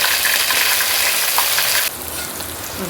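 Ginger and garlic fry in hot oil for a masala brinjal curry, giving a loud, steady sizzle that drops to a softer crackle about two-thirds of the way through, with no talking.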